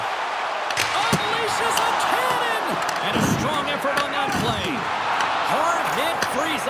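Hard body check in NHL 26 hockey video game, sharp slams and board thuds amid skate and stick noise, with crowd ambience and a play-by-play commentator talking throughout.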